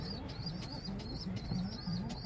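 A smoky-coloured pigeon coos close by in a loft, a soft, low, rhythmic series of repeated coos with higher chirps in between.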